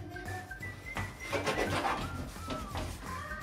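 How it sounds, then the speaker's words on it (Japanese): Black mold is scrubbed off a bathroom door in quick back-and-forth strokes, a close, steady rasping rub. "今ね、あの隅の方を磨いてってるんですけど"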